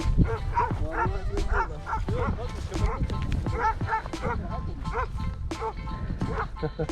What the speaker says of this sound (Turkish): abi köpekler geliyor.